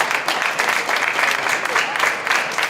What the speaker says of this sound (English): Let's give our whole group a round of applause.